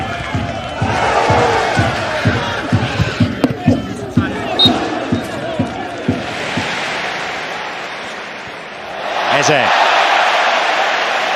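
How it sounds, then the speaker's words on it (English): Football crowd cheering and applauding a player's skill move, a broad swelling roar with bursts of clapping under excited commentary, fading then rising again near the end. "Crowd applauding the drop of the shoulder."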